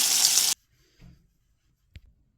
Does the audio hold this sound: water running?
yes